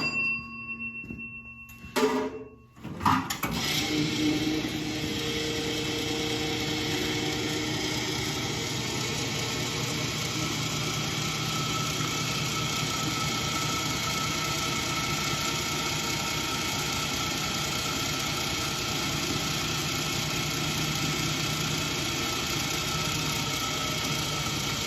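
Old restored gas pump switched on and running with its suction line plumbed up, a steady mechanical hum and drone that starts after a few clicks and continues evenly throughout.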